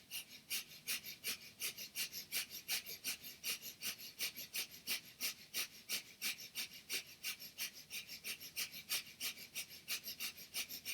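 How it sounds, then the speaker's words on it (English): Rapid, forceful breathing in a fast breathing exercise, quick, even puffs repeating about three times a second, soft and close, with no talking. "Don't be afraid to speed up your breath."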